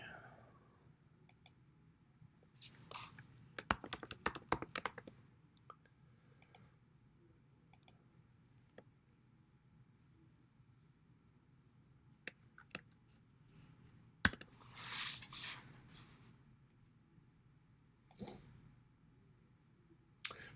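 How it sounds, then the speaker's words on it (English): Typing code on a computer keyboard during an iOS app development class session: faint, scattered clicks and taps arrive in short irregular bursts, with quiet stretches and soft room noise between them. "I'm typing their code in exactly like they have it."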